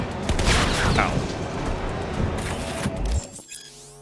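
Rapid bursts of vehicle-mounted machine gun fire in Cyberpunk 2077 crackle over a continuous engine roar and rumbling game effects, ending with a sharp clatter and electronic tones.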